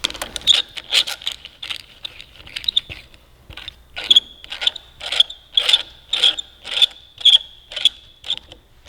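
A hand ratchet tightens the lever pivot bolt on a Kawasaki Ninja 400 motorcycle, giving a steady series of crisp clicking strokes, close up and fairly quiet, with brief pauses.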